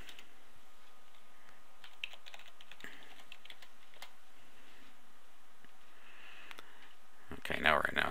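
Soft, quick keystrokes on a computer keyboard enter an admin username and password, faint steady clicking over a quiet room, ending in a louder burst of clatter.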